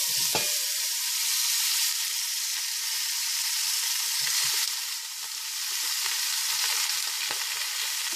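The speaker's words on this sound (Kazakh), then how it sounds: "қатты қызған қазанға біз іш майды және бөтекенің сыртындағы майды алып шығарамыз" Beef belly fat and fat from the outer rumen hitting a very hot kazan, giving a loud, continuous sizzle with scattered pops and crackles throughout.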